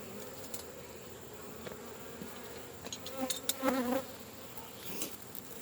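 Honey bees buzz steadily around Flow Hive beehives on a farm, a soft continuous drone with a few closer, louder passes near the end.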